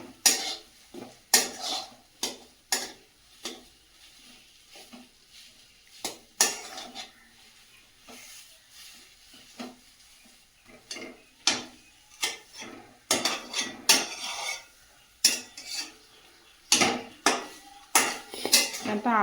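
Potatoes are mashed and stirred in a metal pot, giving repeated sharp scraping clinks of a utensil against the pot in an uneven rhythm, close and clear, with a few quiet pauses between bursts of stirring.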